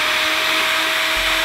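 Power drill boring a hole through a scooter deck to fit deck pins, a steady loud whine with a constant tone held throughout, close by and without speech.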